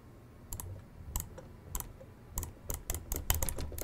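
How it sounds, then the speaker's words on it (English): Several sharp mouse clicks come in quick clusters, some fired in rapid bursts of multiple clicks, close and crisp over a quiet room background with no talking. "if you can listen, I'll only click once"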